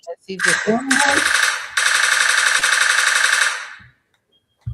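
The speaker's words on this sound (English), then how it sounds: "Where's my damn gunshots?" Rapid gunfire in a sound-effects burst, loud and dense, running continuously for about three seconds before stopping abruptly, with a short voice at the start.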